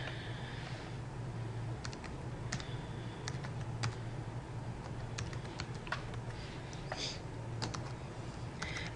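Typing on a computer keyboard, quiet irregular clicks of keystrokes in short clusters over a steady low background hum.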